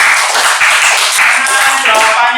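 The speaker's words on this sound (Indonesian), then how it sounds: "Beri tepuk tangan untuk kelompok 5." A classroom applauding a student group, steady close clapping from many hands that fills the whole moment, with some voices mixed in.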